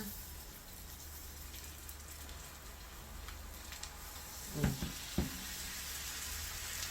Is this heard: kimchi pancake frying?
yes